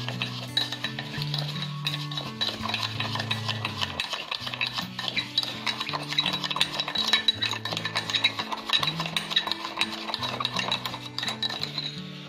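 A spoon beating instant coffee with a little water in a cup, producing steady rapid clinking and scraping strokes against the sides, close and continuous for several seconds.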